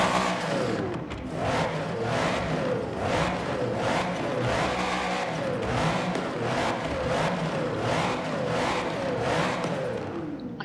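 A Mercedes SL 65 AMG Black Series engine in Forza Horizon 4 revs steadily at close range, its loud drone rising and falling in repeated sweeps over about ten seconds.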